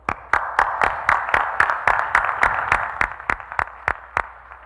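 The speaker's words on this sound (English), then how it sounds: "Applause for Dr. Kelvin." Applause rings out for an award recipient at a 2018 commencement ceremony, a steady crowd of hands clapping with a few sharp, distinct claps standing out as it gradually thins toward the end.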